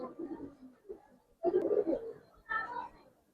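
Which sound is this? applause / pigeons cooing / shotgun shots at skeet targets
pigeons cooing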